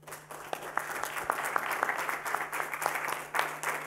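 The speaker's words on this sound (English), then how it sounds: "So a round of applause for you all as well." Audience at a college post-election panel discussion applauding the students, a steady round of many handclaps at moderate distance, fairly soft overall, with no talk over it.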